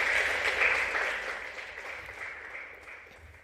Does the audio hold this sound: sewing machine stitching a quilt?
no